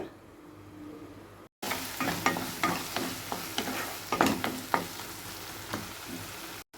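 Onions frying in a pan for a bitter gourd (pavakkai) curry, with a steady close sizzle punctuated by repeated sharp stirring scrapes and clicks, after a brief quieter lead-in and short gap.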